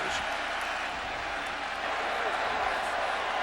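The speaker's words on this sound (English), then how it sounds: "since they have closed in the south end, the noise stays inside the stadium" Loud, steady roar of a college football crowd in an enclosed stadium during a Miami vs Virginia Tech game, a dense continuous wall of cheering and yelling with faint talk mixed in.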